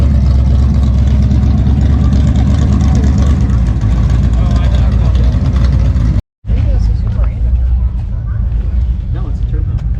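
Turbocharged car engine running at a car show, a loud, steady close-up rumble with revving, heard under nearby talk and crowd noise, briefly cutting out before resuming.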